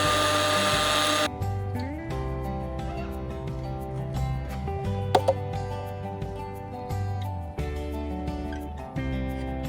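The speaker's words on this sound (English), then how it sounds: "add the roasted rice. Blend at slightly higher speed for a few seconds until it becomes fine powder" A blender whirs steadily as roasted rice is ground into a fine powder, the motor running at a slightly higher speed. Its loud, continuous drone holds for several seconds, with a few brief shifts in pitch and no talking.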